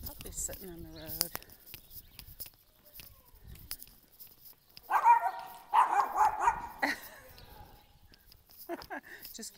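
Short bursts of high-pitched barks and yelps from puppies sitting on a road along the Camino de Santiago, close by, mixed with some brief talking and outdoor background noise.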